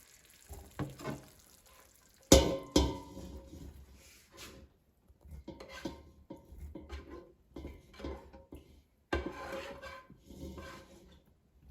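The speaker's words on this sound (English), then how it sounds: "Just put the beef in a frying pan." Lean ground beef scraping and sizzling in a frying pan, with irregular bursts of stirring and clattering against the metal, moderately close, no voices.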